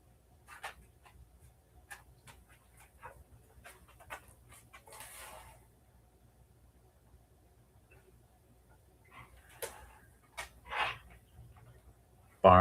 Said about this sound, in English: Barn dog.